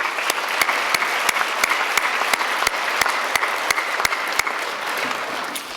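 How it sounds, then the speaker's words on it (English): Education awards ceremony audience applauding the sponsor, a steady, full round of crowd clapping with a few distinct sharp claps standing out near the microphone throughout. "Let's give them a round of applause"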